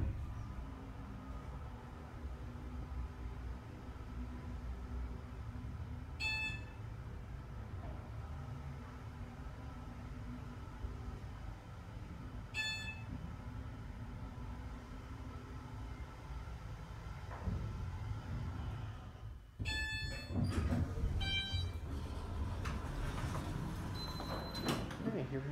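Long hydraulic elevator at an apartment building in Kirkwood, Missouri, a steady low motor hum running throughout, with periodic chimes and a clunk of doors near the end.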